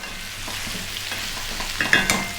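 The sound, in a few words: chunky sweet potato frying and being stirred in a pan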